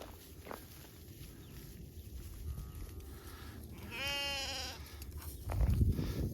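Sheep on a farm give a clear, wavering bleat midway through, set against steady outdoor background noise with a low rumble swelling near the end.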